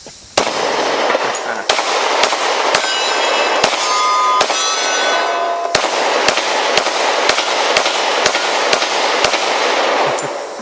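A Glock 20 pistol fires heavy 10 mm hard-cast Buffalo Bore rounds in a fast, uneven string of about a dozen loud, close shots, each a sharp crack with a brief ringing tail.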